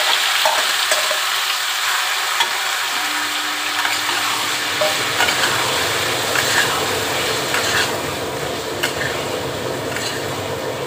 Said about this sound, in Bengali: এবার আমি চিকেনটা দিয়ে দেবো।